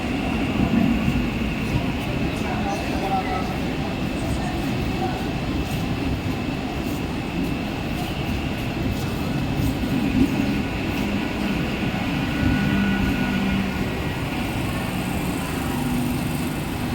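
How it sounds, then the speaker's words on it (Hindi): A Mumbai local train stands at a station platform at night, heard as a loud, continuous rumble and roar of the rail cars with faint clatter throughout, and a station announcement faintly audible underneath. "प्लॅटफॉर्म क्रमांक 2 पर आई हुई लोकल 8:22 की मुंबई छत्रपति शिवाजी महाराज टर्मिनस जाने वाली ही लोकल है।"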